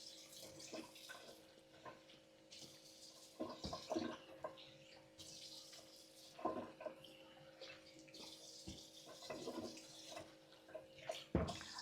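Water runs from a pipe onto cornmeal in a Jamaican home kitchen, a steady faint splashing and trickling stream with a few clunks and knocks, and no talking.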